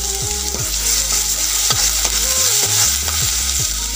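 Onion, ginger-garlic paste and turmeric fry in a pan with a loud, close sizzle, interrupted by repeated stirring and scraping strokes in an uneven rhythm, no talking.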